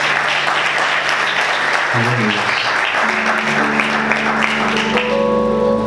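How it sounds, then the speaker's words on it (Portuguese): A church congregation applauds in praise of the Lord, a steady wash of clapping through which a spoken amen is heard, while sustained organ or keyboard tones rise in the background. "Vamos aplaudir o Senhor"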